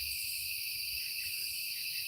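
Crickets chirp steadily at a night campsite, a dense continuous high trilling that fills the whole short stretch with no voices over it.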